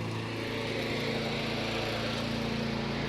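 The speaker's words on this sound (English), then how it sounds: "neighbor across the street mowing. He's got a lawn." A neighbor's lawn mower runs across the street, its engine a steady, continuous drone heard from a moderate distance throughout, with no voices over it.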